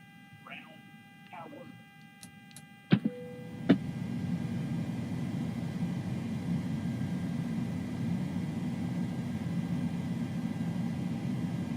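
PMDG 737 cockpit in Microsoft Flight Simulator 2020. A few sharp switch clicks are followed by a steady low aircraft hum that continues to the end, with a faint voice briefly at the start.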